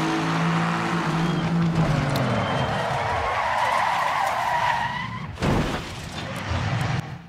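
Roaring race car engines in the racing game Assetto Corsa Competizione, with screeching tire skids, pitches sweeping as cars speed by, loud and continuous with a sharp burst near the end.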